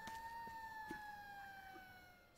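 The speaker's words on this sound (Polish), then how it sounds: "Czy tam słyszę policję?" Police siren in the Destroy All Humans remake video game, a faint wailing tone gliding slowly downward in the background, steady throughout and mixed low under the game's ambience.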